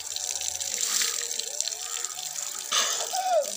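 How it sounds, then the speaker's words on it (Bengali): Water runs steadily from a tap while a little girl is bathed, a continuous close splash with a brief heavier gush near the end. "আমার ছোট্ট মেয়ে মামমাম স্নান করছে"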